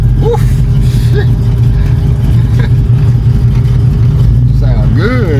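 A small-block Chevy V8 fed by a Holley electric fuel pump runs steadily with a loud, even rumble, under voices talking and a few brief whoops.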